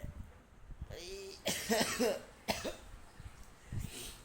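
Several rough coughs in a row from someone with a cold, close and fairly loud, with a brief throat-clearing rasp between them and a quieter cough at the end.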